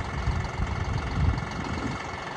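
A tractor engine idles steadily and close by, a low continuous rumble that holds even throughout with no voices over it.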